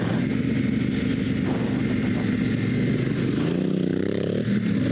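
A dual sport motorcycle on Kenda K784 Big Block 60/40 tires riding a rocky, washed-out road, with a continuous close engine drone plus rattling and scraping from the rough surface, no talking.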